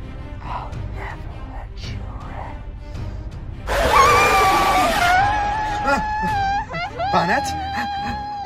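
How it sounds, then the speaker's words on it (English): A loud, sustained scream from a horror-themed animated plush story bursts out midway and trails into wavering cries, following quieter vocal sounds. "What was that screaming?"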